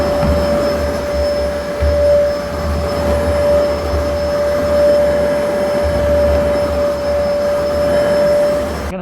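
A Zero-G F3d cordless vacuum cleaner runs steadily and loudly on carpet throughout, a constant airy roar with a thin, high whine on top.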